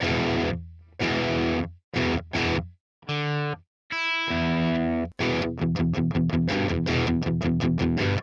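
A heavily distorted electric guitar through a Marshall amp model plays chugging chords and stabs with abrupt stops, then a fast rhythmic run of chopped chords, loud and up front.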